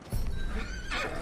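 A horse in Red Dead Redemption 2 gives a short, loud whinny, about a second long, with a few hoof thuds underneath.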